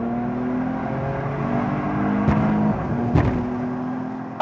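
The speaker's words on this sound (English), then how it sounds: "put the car into Sport Plus, drop down a few gears and floor the throttle" A 2023 Mercedes-AMG E53 Cabriolet in Sport Plus is driven at full throttle, its engine droning and climbing steadily from inside the car, with a couple of sharp knocks or gearshift thumps breaking in.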